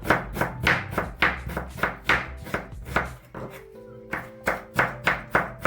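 An onion chopped with a knife for a fasting soup, about a dozen crisp, evenly spaced cuts on a board with a short pause midway, close and clear, alone without talk.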